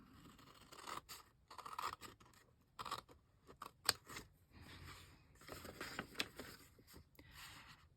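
Scissors cut paper from a 6x6 craft paper pad in a quiet room, making several close, soft snips and scrapes in irregular bursts with short pauses between them.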